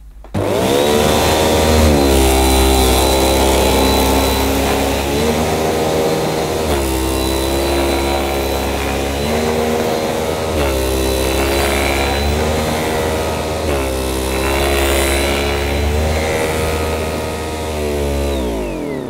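A Goblin upright vacuum cleaner runs over short pile carpet, its loud constant motor whine rising and dipping in a regular rhythm as it is pushed forward and pulled back.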